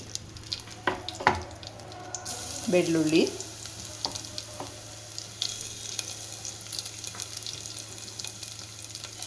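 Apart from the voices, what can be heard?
tempering dried chillies, mustard and cumin sizzling in oil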